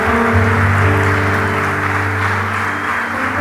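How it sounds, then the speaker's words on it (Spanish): Loud, sustained applause from a church congregation honoring grandparents and great-grandparents, a dense wash of clapping with a steady low hum beneath, no voices standing out. "Denle un fuerte aplauso por los abuelitos y los bisabuelos."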